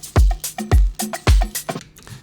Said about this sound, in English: So the drums in solo sound like this